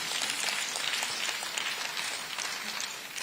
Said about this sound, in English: Please, a round of applause for our dear president.